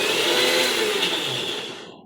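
A kitchen mixer grinder whirs loudly and steadily for about two seconds, a dense motor drone that begins fading toward the end.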